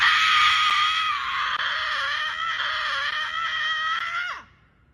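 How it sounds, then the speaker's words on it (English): A single person lets out one long, sustained scream, loud and strained, held steady for about four seconds before cutting off into silence. "Have you tried void screaming?"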